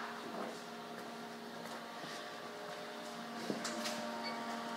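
Mechanical hum and whirr of a solar panel laminator's vacuum chambers closing in a factory, a steady machine drone with light clicks and a small knock near the end, no talk.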